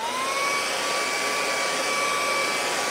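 A hair dryer blows steadily on wet acrylic paint, a constant close whooshing hum with a high whine that holds for the whole stretch, with no talking.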